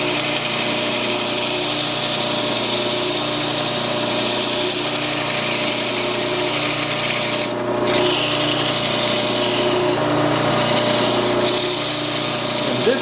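A power tool turning at about 1000 RPM sands the wooden handle of a two-man saw, giving a continuous steady whirring rub with a constant hum, close and fairly loud, with one brief dip partway through.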